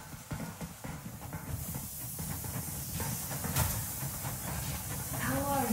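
Steam train Aurora pulling away in the video game Metro Exodus, with a steady hiss of steam and low rumbling chugs building over a continuous mechanical background, loud and close throughout.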